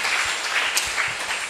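Congregation at a Sunday worship service clapping and applauding, a dense steady wash of hands at moderate volume with no speech over it.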